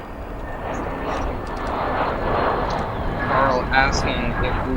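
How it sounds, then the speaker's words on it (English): A Boeing 777-200 landing on Runway 10 Center at O'Hare International Airport, a broad jet-engine roar swelling and easing at a distance, with a voice talking over it. "There she is as the 777-222 lands on Runway 10 Center here at O'Hare"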